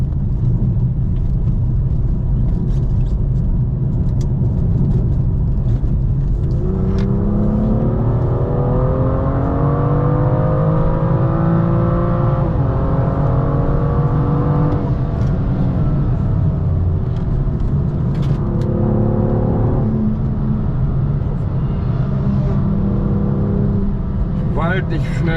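A BMW M2 F87 rips around the Nürburgring Nordschleife heard from onboard, its engine loud and close as revs climb and fall in sweeping harmonic runs through gear changes, with voices talking over it at times.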